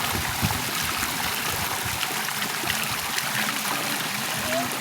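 Water flows steadily along an irrigation canal leading to a mango grove, giving a continuous close rushing and trickling wash with no breaks.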